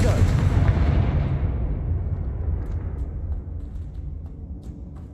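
A Confringo fire spell explodes in the video game Hogwarts Legacy, a loud booming blast with a deep rumble that slowly fades into a lingering roar over several seconds.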